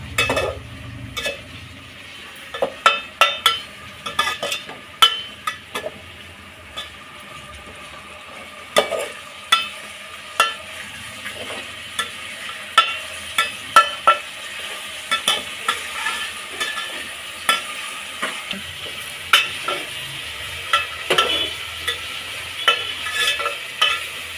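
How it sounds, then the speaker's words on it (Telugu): Onions frying until brown for mushroom pulao, with a soft background sizzle punctuated by frequent sharp clinks and scrapes of a spoon stirring in the pan, close and without speech. "ఆనియన్ బ్రౌన్ కలర్ వచ్చే వరకు ఫ్రై చేసుకోండి"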